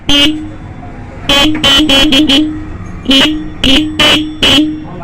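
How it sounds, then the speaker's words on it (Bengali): A motorcycle horn being tested on the bench sounds in loud, sharp bursts: one short beep, then clusters of quick toots and several longer honks, spaced irregularly and close by. "হর্ন কিন্তু ক্লিয়ার বাজতেছে তার মানে হর্ন ভালো আছে"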